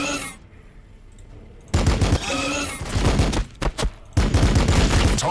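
Bursts of sci-fi gunfire in a Warhammer 40k Battle Sector battle with Blood Angels units: a sustained loud fusillade of rapid shots, a brief lull, then short volleys and another heavy stretch of firing, with no talk.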